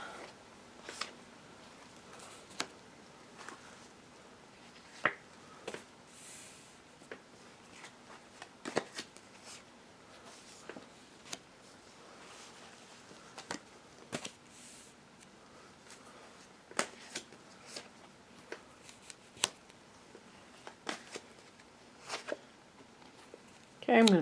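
A Morgan Greer tarot deck being shuffled by hand, with repeated soft riffles and card snaps at irregular intervals, close and fairly quiet over a hushed room, with a louder flurry at the end.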